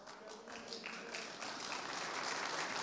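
Applause from the audience at a Turkish oil wrestling league press conference, a steady wash of clapping that holds at an even level and swells slightly toward the end, with some voices mixed in.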